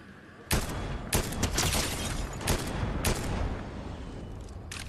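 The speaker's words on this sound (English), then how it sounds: "someone's shooting them" Fortnite gunfire cracks out in sharp bursts, several separate volleys of shots with brief gaps between them, loud and close over a steady background bed.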